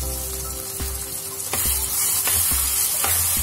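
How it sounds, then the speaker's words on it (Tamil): Crushed green turkey berries (sundakkai) sautéing in a hot pan for kara kuzhambu, a steady loud sizzle and hiss of frying broken by a few soft stirring knocks, with no voices. "இந்த தட்டி வச்சிருக்கேன் சுண்டக்காவை சேர்த்து வரட்டிக்கோங்க."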